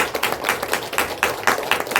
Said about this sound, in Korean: 하나님께 영광의 박수 한번 해주십시오.